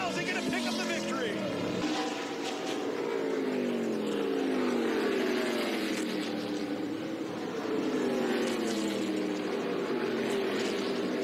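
ARCA Menards Series West stock cars lap Kern County Raceway, their engines roaring in a continuous layered wash with rising and falling pitch as the pack passes, while a race commentator talks over the noise.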